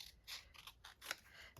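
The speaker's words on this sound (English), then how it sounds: "I'm going to cut the pink one in half." Scissors snip through pink paper in a few quick, crisp cuts, close and quiet, with no talking.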